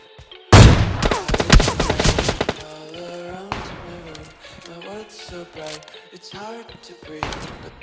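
Rapid burst of gunfire from PUBG Mobile Lite gameplay, loud and dense at first, then tapering into scattered shots and clanks under game music and faint talk.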